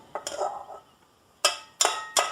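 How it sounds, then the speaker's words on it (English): Dry cookie ingredients, flour among them, whisked together in a mixing bowl, heard as a rustling scrape followed by three sharp clinks of the whisk against the bowl, close and fairly quiet. "And then whisk that together."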